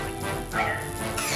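A robot fire dog in a French cartoon gives short, bright barks and yips, close and clear over a brief musical background.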